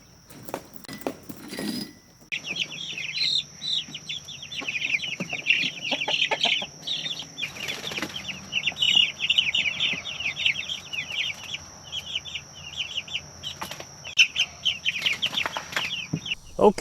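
A flock of young meat chickens clucks and chirps steadily in a close chorus, with occasional wing flaps and shuffling nearby.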